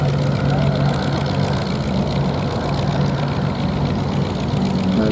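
Propeller aircraft engine running steadily at the Duxford VE Day anniversary air show, a continuous loud drone with a low hum, a faint voice underneath.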